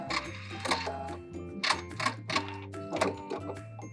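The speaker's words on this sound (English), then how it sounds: "I'm gonna back stitch and cut." Domestic sewing machine back stitching along fabric trim, a rapid mechanical whirr broken into short repeated bursts with clicking needle strokes, close up and with no talking.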